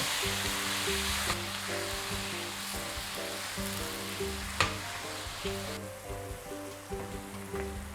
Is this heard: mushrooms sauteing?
yes